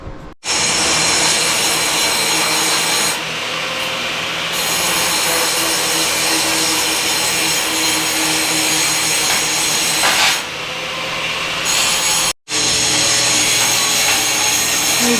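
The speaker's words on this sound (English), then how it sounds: "now he is grinding off the weld, getting everything all nice and smooth" An angle grinder smoothing down welds on a steel fender for a DIY offroad trailer, a loud continuous whine that runs almost unbroken for about twelve seconds, drops out briefly, then starts again.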